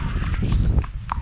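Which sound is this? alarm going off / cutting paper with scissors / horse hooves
horse hooves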